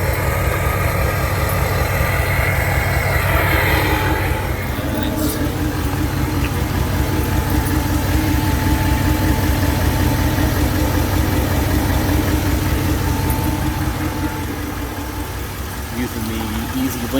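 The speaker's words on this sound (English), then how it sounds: "2017 Nissan Titan XD. This of course has the Cummins diesel." A 2017 Nissan Titan XD with a Cummins diesel and a straight-pipe exhaust idles close by, its steady low chugging pulse running evenly throughout with a slight dip near the end.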